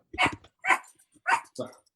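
A dog gives four short, sharp barks in quick succession, close and fairly loud, with silent gaps between them and no talking.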